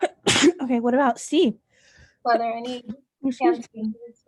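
A single sharp human sneeze bursts out near the start, followed by people talking in a quiet room.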